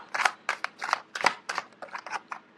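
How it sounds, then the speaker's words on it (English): Tarot cards being pulled from a deck one after another during a relationship reading, giving a close series of short papery swishes and flicks with an uneven rhythm, with no talk over them. "Let me just pull out a few more cards for this relationship cluster here."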